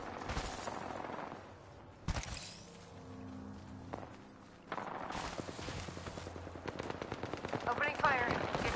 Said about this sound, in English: Opening fire. Getting shot at. Reloading.